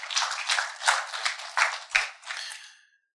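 A crowd applauds in a dense, continuous patter that fades out near the end, with no voices over it.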